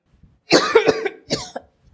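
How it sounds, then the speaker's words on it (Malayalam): A person coughs close by, a harsh cluster of coughs followed by another short cough. "അമ്മ നീ കിടന്ന് ചുമക്കുന്നത്"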